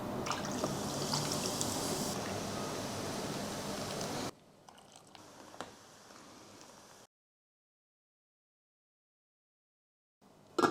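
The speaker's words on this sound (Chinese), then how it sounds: "边泼边搅，不要让它接触在一个地方，把它炸焦了。" Hot oil poured over chili flakes while being stirred, a dense crackling hiss that cuts out midway, leaving quieter fizzing before silence.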